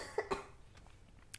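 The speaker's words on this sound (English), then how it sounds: "That cough?" A person gives a couple of quick coughs, close and fairly soft, followed by faint room noise.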